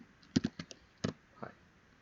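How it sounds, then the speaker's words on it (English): Quiet typing on a computer keyboard while a program is set up: a short burst of clicky keystrokes in an uneven rhythm, then a pause and a few more taps, close and soft. "I can start typing any message over here"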